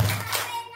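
Young kindergarten children clapping their hands together in a classroom storytelling session, a brief burst of soft claps.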